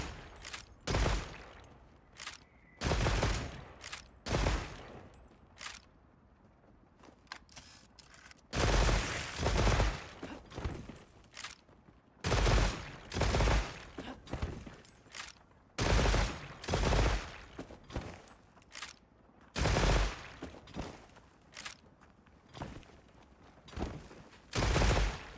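Repeated bursts of gunfire hit a training dummy in a video game's training room, loud clustered volleys with short pauses between them and no voices.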